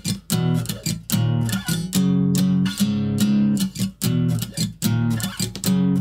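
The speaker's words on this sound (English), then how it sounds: "the rhythm of the guitar solo is going to sound like this" An acoustic guitar strums the rhythm of a song's solo in loud, choppy bursts with short muted gaps, repeating a syncopated pattern for about six seconds without voices.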